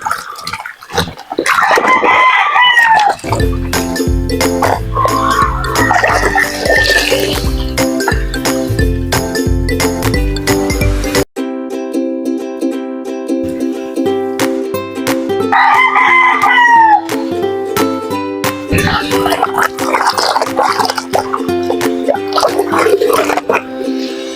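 Native chickens crowing and clucking in a yard, with repeated loud cock-a-doodle-doo calls standing out over a steady, dense backing of music that runs throughout.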